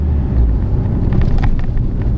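Car engine revving as the throttle is blipped, a steady low rumble throughout with a brief rise in pitch near the middle, close and fairly loud with some wind buffeting.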